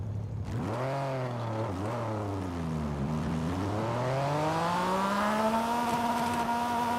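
A car engine revs continuously in Forza Horizon 5, a loud close engine note that dips, then climbs steadily in pitch toward high revs with no pauses.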